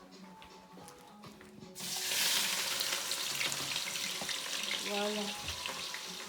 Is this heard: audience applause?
no